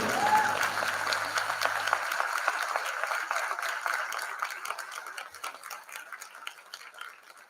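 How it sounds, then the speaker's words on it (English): Dense applause from an audience at a stage event, the Grand Finale of India Voice Fest 2022, steady and full throughout, briefly under music at the start. "A round of applause, please."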